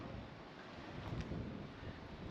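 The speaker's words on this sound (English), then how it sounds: "It's getting windy." Wind buffets the microphone on a beach in Busan, South Korea, a low, rumbling, fairly quiet rush that swells slightly midway, with no voices.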